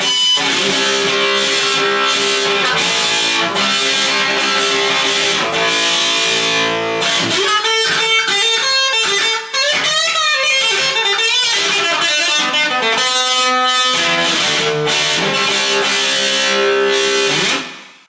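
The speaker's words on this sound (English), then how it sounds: "Combination of volume and a bit of soft wah there." Sustained electric guitar through a Zoom GFX1 with swelling volume and a gentle, soft wah coloring, played continuously before fading out at the end.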